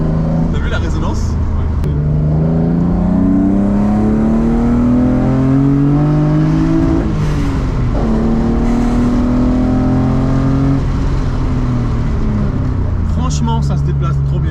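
A BMW E36 fitted with individual throttle bodies revs loud and close, its engine drone sweeping up and down in pitch with a strong resonant boom that holds throughout.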